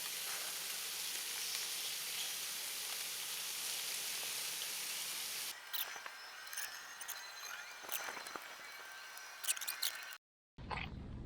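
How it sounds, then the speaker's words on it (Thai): Steady rain hiss falls outdoors at a sand-pit fishing pond, loud and broadband for about five seconds, then thins into scattered drops and patter before a brief cut near the end. "เมื่อกี้ฝนตก"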